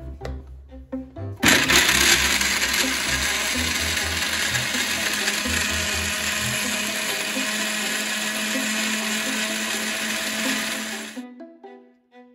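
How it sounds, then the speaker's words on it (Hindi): A mixer grinder grinds almonds with milk in a loud, continuous motor whir that starts abruptly, runs about ten seconds, then winds down, with light clattering before and after. "पहले इन सब चीजों को ग्राइंड कर लेते हैं"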